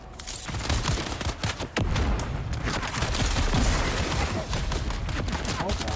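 Sustained disruptor gunfire in the game Dune: Awakening, dense loud volleys of rapid energy shots with booming impacts continuing almost without pause, and a voice briefly heard under the fire.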